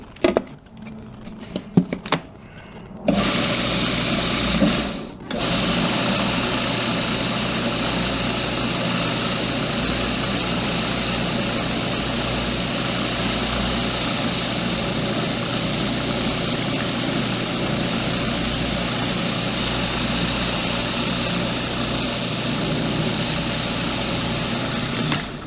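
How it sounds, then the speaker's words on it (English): A food processor chopping chickpeas for falafel, starting with a few stuttering pulses and then running into a loud, steady motor whir with its blades spinning continuously for over twenty seconds. "make sure all those chickpeas have been chopped by the blades"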